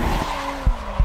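Drift car tires squealing and spinning on pavement, a short tonal screech under a revving engine, with two heavy low thumps near the end.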